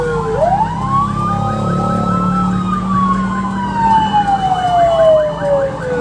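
Fire truck sirens wail during a fire prevention month parade in Santa Rosa, Laguna: a loud wail sweeps quickly up and then slowly glides down, with a traffic rumble underneath and fainter overlapping siren tones.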